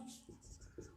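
Chalk or marker scratching across a classroom board during a math lesson, short strokes close by with a brief tap at the end.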